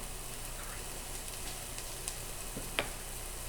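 Chopped onion and garlic soften in a pot over moderate heat, giving a steady, quiet sizzle with a few faint pops and clinks, and no talking.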